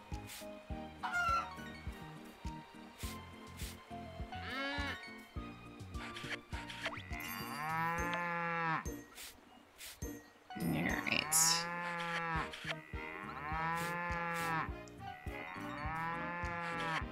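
Cows mooing in the farming video game Story of Seasons: Pioneers of Olive Town, several drawn-out moos repeating over a plinking musical background.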